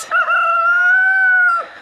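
A rooster at a chicken coop lets out one long, steady crow lasting well over a second, loud and close, with no talking over it.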